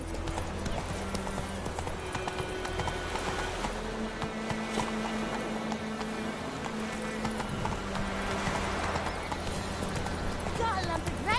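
Roach the horse trotting in The Witcher 3, a steady clip-clop of hooves running through the whole stretch over game music and ambience, with a voice speaking now and then.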